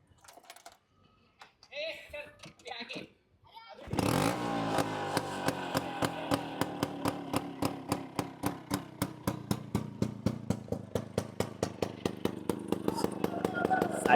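A Bajaj Chetak scooter with a badly rusted silencer starts after a few seconds of quiet talk, then idles loudly nearby with a rapid, uneven putter and rattling exhaust pulses that continue to the end.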